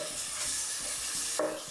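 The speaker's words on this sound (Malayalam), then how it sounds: "ഈ മിക്സിന്റെ ഒരു പച്ചമണം മാറണ വരെ ഇളക്കിക്കൊണ്ടേയിരിക്കണം." A spice mix is stirred as it fries in a pan, with steady dense sizzling and soft rhythmic scraping strokes, close and continuous with no voices.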